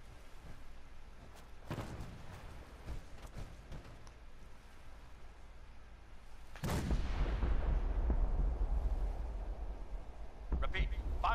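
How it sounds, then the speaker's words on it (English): Artillery barrage in Fallout 4: deep booming blasts from distant guns, a few scattered reports early on, then a heavy rolling explosion that rumbles on for several seconds, with another blast near the end. "All batteries, prepare to fire on my mark."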